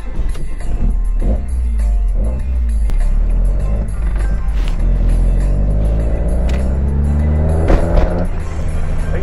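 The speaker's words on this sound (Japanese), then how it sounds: "もう早速こうカーンっていうこのキャブレターの音を聞かせてみたいと思います" A carbureted Mazda Roadster drives by on a road, its engine note rising and swelling as it nears, loud and close for a few seconds before pulling away, with a steady low rumble underneath.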